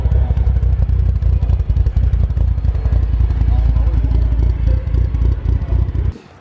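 Mitsubishi Evo 8 engine with a screamer pipe, aggressive cams and a new tune, rumbling loud and close in a choppy, lumpy idle for about six seconds before cutting off abruptly.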